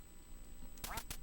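Duck quacking in the NES game Duck Hunt, a few loud, abrupt electronic quacks near the end after a quiet lead-in, with a steady high tone running underneath.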